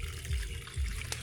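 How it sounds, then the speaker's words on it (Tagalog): Water gurgles and splashes as it collects in a tank on a farm, a short low sloshing flow with a few soft pulses. "kaipon tayo ng tubig dito ngayon"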